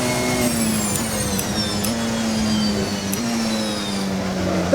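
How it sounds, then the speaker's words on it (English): In a modded racing video game, a car engine drones steadily with a high rising transmission whine layered on top, pitch climbing and resetting with each gear change, loud and continuous. "That recharge, that transmission whine"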